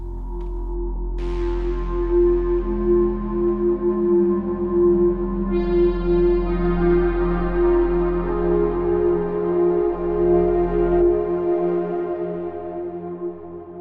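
A recreated atmospheric song intro plays as a sustained, swelling synth pad with a deep low drone and shimmering high layers that shift in and out, smooth and continuous without voices.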